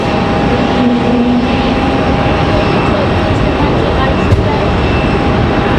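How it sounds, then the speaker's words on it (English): A loud, continuous roar of an Airbus A321neo's Pratt & Whitney jet engines nearby at Raleigh-Durham airport, steady and droning throughout with a faint whine above the rumble. "You heard the engines howling out. Got those Pratt & Whitneys on board that A321 Neo."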